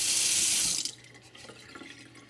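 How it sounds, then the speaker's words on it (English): Hot water is poured into a smoking cast iron skillet, giving a loud, bright rushing hiss that cuts off after under a second and leaves a quieter, fading sizzle and bubbling. "so I just slowly pour the water in there. And it boils all of that."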